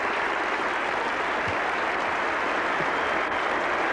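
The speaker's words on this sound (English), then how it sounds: "Clapping the stroke and the century." A cricket crowd at a 1985 England v Australia Ashes Test match applauds David Gower reaching his century, a dense, steady wash of clapping from many hands that holds loud and constant, with no voices standing out.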